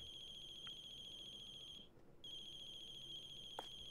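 A mobile phone rings in the horror game The Closing Shift with a steady electronic tone, briefly cutting out midway before resuming, heard alone at a moderate level.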